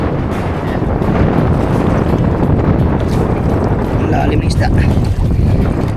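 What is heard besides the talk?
strong wind and waves at sea on a fishing boat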